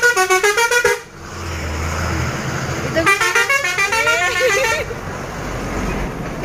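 Busy road traffic crowded with buses, with repeated loud horn blasts sounding close by in two bursts over a continuous low rumble of engines.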